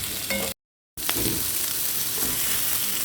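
Carrots sizzle steadily in a frying pan for a Cantonese chicken dish, a continuous close hiss cut by a brief gap of silence, with a soft clink near the start.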